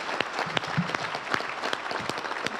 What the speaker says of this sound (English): Another round of applause for Coach Janine Tucker